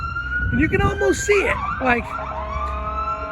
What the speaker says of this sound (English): Sorry about the sirens there